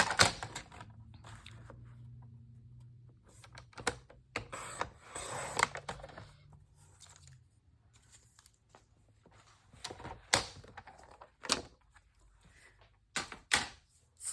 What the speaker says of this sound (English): It looks like just 1/2 inch I have to trim off here.